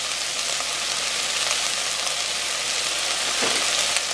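Garlic for lentil soup sizzling in a hot pan, a steady, close, hissing fry that holds even and unbroken throughout, with no voices.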